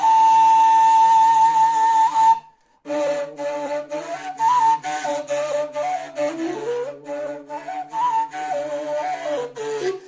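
A kurai, the Bashkir reed flute, plays a breathy, whistling melody with long held notes and shifting pitches. It sounds close and alone, with one brief pause early on.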